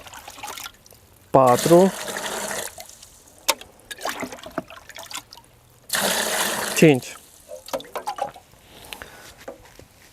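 Water is poured into wood ash to mix a garden fertilizer, coming in two separate splashing pours with short trickles between them, close up, while a person talks.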